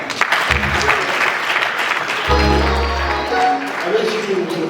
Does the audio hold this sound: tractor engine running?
no